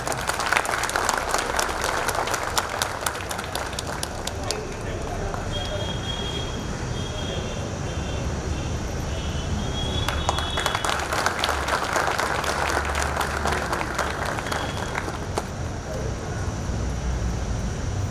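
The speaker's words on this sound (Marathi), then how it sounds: "सरांनी टाळ्या वाजून या" Applause fills a school event hall, a steady dense patter of many hands clapping that runs the whole stretch with little change in level, a few brief whistle-like tones rising above it midway.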